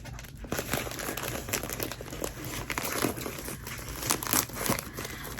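Plastic packaging of a Creative Notions subscription box crinkling loudly and continuously as it is opened up close, with bits of tearing mixed in and no talk.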